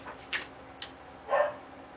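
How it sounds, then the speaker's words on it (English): A dog barks a few times indoors at some distance, short sharp yaps spaced apart with a low steady hum underneath. "The dog's barking."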